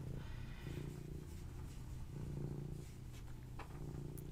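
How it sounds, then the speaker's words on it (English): A domestic cat purrs close by in a steady, rhythmic rumble that pulses with each breath, soft but continuous and with no talking over it. "You're a cat."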